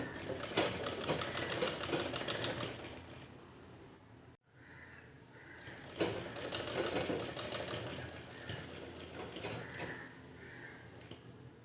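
A sewing machine stitches a dress top in rapid, rattling bursts, steady and close, stopping briefly partway before running again.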